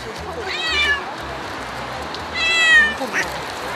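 A cat meows twice nearby, a drawn-out cry followed by a second, longer one a moment later, over faint indoor background noise.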